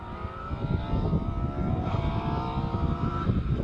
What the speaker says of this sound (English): wonderful engine in that Mark II Escort singing away with Piers Grange at the wheel